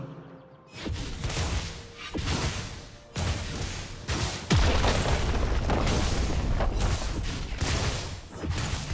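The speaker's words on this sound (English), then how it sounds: "Red team's turret has been destroyed." Turret destruction in League of Legends: a loud, sustained barrage of booming blasts and crashes, layered game effects and whooshes, continuous with no quiet gaps.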